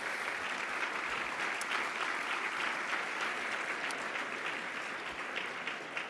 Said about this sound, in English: Yes, they should be applauded